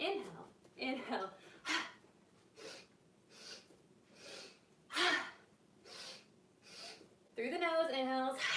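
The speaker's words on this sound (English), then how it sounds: "Through the nose, inhales, forceful exhale through the mouth." A yoga instructor leading a vinyasa flow breathes forcefully, drawing sharp inhales through the nose and pushing strong exhales out the mouth, about nine close, rhythmic breath bursts spaced roughly a second apart, ending in louder voiced breathing.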